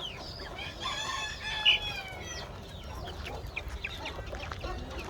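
Chickens cluck and call in a coop or farmyard in the morning, with a rooster crowing among them; the bird voices are layered and moderately distant over a constant background rustle.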